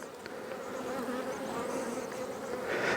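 Honeybees swarm in a crowded hive around an open frame, making a dense, continuous close buzz that holds steady throughout.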